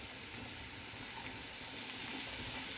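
Shredded chicken, boiled with black pepper and salt, dropped into a hot pan for lasagna roll-up filling, giving a steady faint sizzle with soft stirring and no talk.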